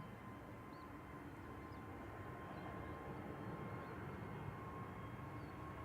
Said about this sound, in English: Jet2's HLYJ A321neo to Ibiza rolling now with flight 1033.